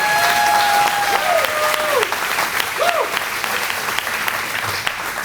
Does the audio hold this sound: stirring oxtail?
no